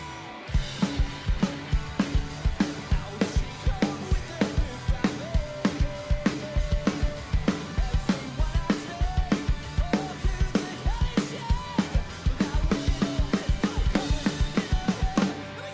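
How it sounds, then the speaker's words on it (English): A drum kit plays a fill with a phrase of snare notes introduced by a double kick, in a drum masterclass setting. Dense, even strikes hammer on steadily throughout, loud and close, with no talking. "at the beginning of that phrase of snare notes, I intro it with a double kick"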